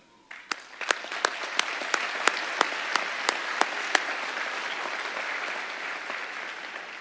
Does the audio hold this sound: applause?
yes